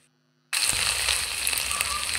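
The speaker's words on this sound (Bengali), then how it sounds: "ভালো করে নাড়াচাড়া করে মিশিয়ে ভাজা ভাজা করে নেব" Chopped vegetables drop into hot oil in a kadai and break into a loud, close sizzle that keeps going after a moment of near silence, with faint scraping and crackles from stirring.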